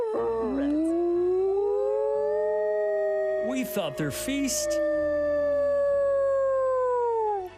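Wolves howl in long, sustained, rising and falling tones that fill the whole stretch, with several voices overlapping, while a person talks briefly over the chorus partway through.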